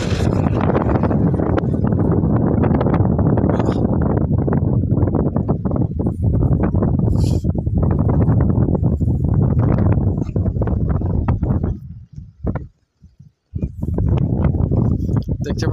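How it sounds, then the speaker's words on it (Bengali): Strong wind buffets across a river during net fishing, roaring loud and steady in gusts, then drops out briefly near the end before rushing back. "নদীতে প্রচুর পরিমাণ বাতাস।"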